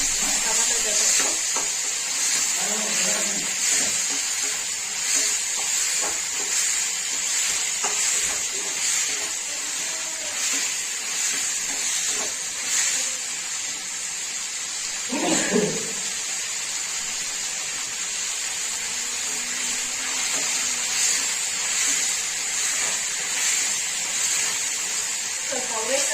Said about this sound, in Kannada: ಸ್ವಲ್ಪ ಅವರೆಕಾಳನ್ನ ಸ್ವಲ್ಪ ಎಣ್ಣೆಯಲ್ಲೇ ಫ್ರೈ ಮಾಡಬೇಕು ಚೆನ್ನಾಗಿ